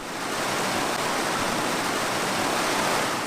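A river rushes in a steady, dense, continuous roar of moving water, loud and unbroken throughout, with no voices.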